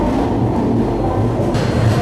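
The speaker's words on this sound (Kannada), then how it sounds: "ನಮ್ಮ ಬಸವ ಎಕ್ಸ್ಪ್ರೆಸ್ ಇವಾಗ ಎಂಟರ್ ಆಗೈತ್ರಿ ಧರ್ಮವರಂ ಜಂಕ್ಷನ್ಗೆ" The Basava Express rolls into Dharmavaram Junction after rain, a steady heavy rumble of wheels and carriages close at hand, unbroken through the short moment, with no talk.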